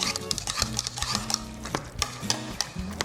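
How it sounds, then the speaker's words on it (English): A spoon stirs a sweet potato casserole mixture with brown sugar and vanilla in a bowl, giving soft repeated scraping and clinking strokes at a steady rhythm, close up and moderately quiet. "Give that a little stir"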